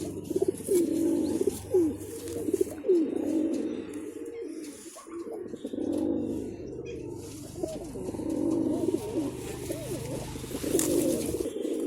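Pigeons coo continuously in a loose, overlapping chorus, repeated low throaty calls close by and fairly loud throughout, with a steady low hum underneath.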